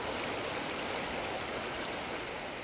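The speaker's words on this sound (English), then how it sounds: "So there's this waterfall which fills the lake and gives it the beauty it has." Steady, even rush of a waterfall pouring into Deepak Tal lake, a constant broadband wash heard at moderate distance with no other sounds.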